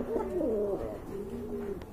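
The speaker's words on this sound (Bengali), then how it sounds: "আরেক জোড়া কবুতর দেখতে পাচ্ছেন" Pigeons coo softly at a pigeon farm: one low, throaty, rolling call, then a shorter second coo, close by and clear.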